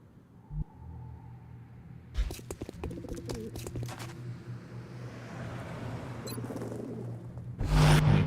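Pigeons cooing in the video game X-Com: Enemy Unknown, soft low coos recurring beside a steady rumbling game ambience, with scattered clicks and a louder burst of noise near the end.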